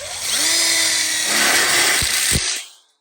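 A power drill drives screws into a welded split bar counter kit for an outdoor kitchen, a loud steady whirring buzz lasting over two seconds with a couple of sharp clicks near the end before it cuts off.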